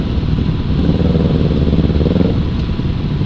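BMW R nineT motorcycles riding out together, a loud, steady, close engine rumble that holds throughout with no talking.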